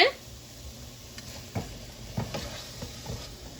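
Quiet sizzling in a pan with a few soft scraping strokes as coriander powder and other spices are stirred for mutton chops gravy, plus an occasional clink of the utensil.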